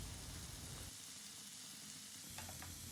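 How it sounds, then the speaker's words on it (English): Onion, ginger and garlic sauté in a pan for a catfish curry, giving a steady, close sizzle that eases briefly in the middle before a few soft stirring clinks near the end. "We'll saute this well until the raw taste of onion, ginger, garlic goes away"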